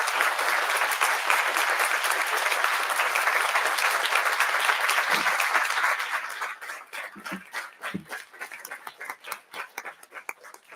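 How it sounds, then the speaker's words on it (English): Audience applause after a debate round at a resolution event, a dense steady roar of many hands for about six seconds, then thinning into scattered, separate claps as it dies away. "let's give them one more round of applause"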